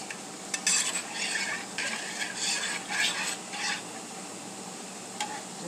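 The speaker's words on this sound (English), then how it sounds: "Just going to give it a stir." Butter being stirred as it slowly melts in a cooking pot for gumbo, a spoon scraping in soft repeated strokes with a faint sizzle, moderately close and alone.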